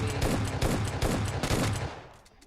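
Rapid gunfire from a shooting video game, a dense burst of loud repeated shots lasting about two seconds before tapering off, with no talking.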